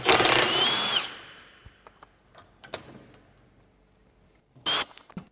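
A power tool undoing bolts on a Range Rover chassis, giving a loud whirring burst at the start and another short burst near the end, with scattered clinks and knocks in between.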